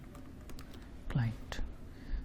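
Quiet keystrokes on a computer keyboard while entering text in Microsoft Excel 2016, a few scattered taps followed by a short burst of typing, under a soft voice speaking nearby.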